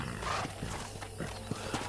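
Horse sounds from the video game Red Dead Redemption, a whinny and clopping hooves heard close, with steady game ambience behind and a few sharper hoof knocks near the end.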